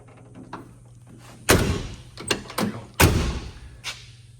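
A 1967 Chrysler Imperial's driver-side door shuts with a solid thud, followed by a few more clunks and bangs, including a second firm slam, close to the listener.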